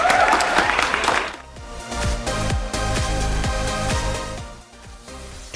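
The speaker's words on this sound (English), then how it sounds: "give me a big round of applause" A burst of crowd applause fills the first second or so, then fades as upbeat music with a steady beat takes over.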